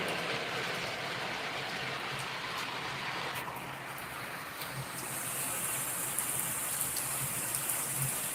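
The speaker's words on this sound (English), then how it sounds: "But now we got this rain." Rain falling outside, a steady close hiss of drops pattering on surfaces with a few louder individual drips, continuous and even for the whole stretch, no talking.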